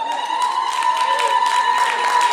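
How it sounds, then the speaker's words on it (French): Gala audience at a Gabonese community event in Québec applauding steadily for about two seconds, a continuous wash of clapping with voices and a tonal hum underneath. "On applaudit pour ces Gabonais là."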